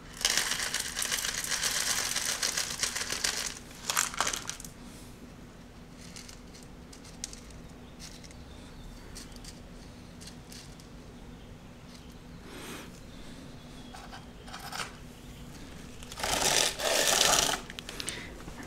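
Clay pebbles being handled and poured into a hydroponic net cup, giving bursts of dry rattling and crunching near the start and again near the end, with quieter rustling and faint handling noise between.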